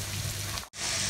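Spice masala for a Kolkata-style chicken dish fries and sizzles in a pan, a dense steady crackling hiss broken by one brief dropout.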